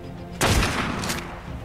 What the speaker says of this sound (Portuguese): Pronto, mais um tiro no Carnotauro.